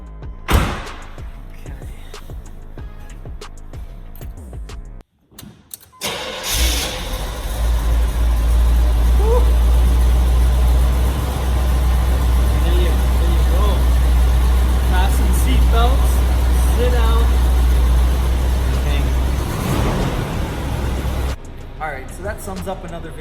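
A 1978 Chevrolet Corvette Pace Car, a rare low-mileage example, cranks briefly, then fires up and settles into a loud, deep, steady idle with a slight revving swell before cutting off near the end.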